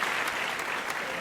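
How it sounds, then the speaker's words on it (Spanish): A congregation at a church service gives a brief burst of applause, with even, continuous clapping heard from a distance at modest volume. "Le damos un aplauso fuerte al"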